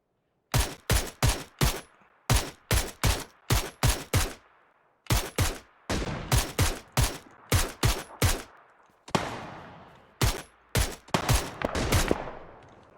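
Gunfire in the video game PUBG comes in sharp bursts of rapid shots, several volleys of three to five cracks each, separated by brief silences, fairly close and loud with no talk over it.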